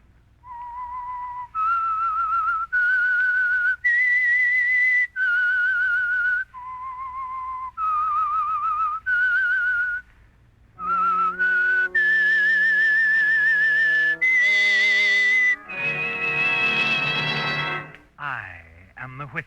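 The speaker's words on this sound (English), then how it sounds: "That whistle is your signal for the Signal Oil program" A whistled theme for the Signal Oil radio mystery program The Whistler, performed as a lone melodic whistle in a series of sustained, wavering notes that rise and fall, then joined by orchestral accompaniment swelling in the final bars.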